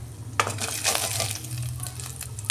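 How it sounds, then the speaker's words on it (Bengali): Fish sizzles in hot oil in a pan, a moderate crackling hiss with scattered pops and light scraping over a low background hum. "দেখুন বন্ধুরা, আমার মাছ ভাজা হয়ে গেছে।"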